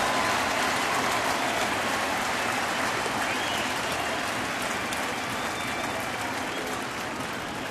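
A baseball stadium crowd at a Cleveland at Detroit game roars steadily with massed cheering and clapping, a dense, continuous wash of noise that eases slightly toward the end.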